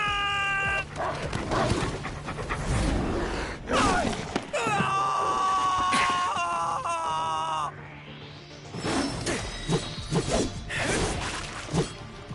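Dogs bark and yip amid tonal game music and effects during a Final Fantasy VII Remake battle, the barks coming in short bursts alongside whimpering sounds.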